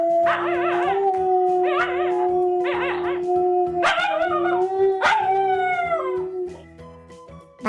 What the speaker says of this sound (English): Alaskan Malamute are powerful dogs of a breed with a thick, gray coat, bred by the Inuit and typically used to pull sleds.